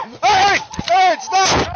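Gunfire during a police confrontation at a standoff: a loud blast cuts through raised, shouting voices, with sharp bursts sounding close and harsh.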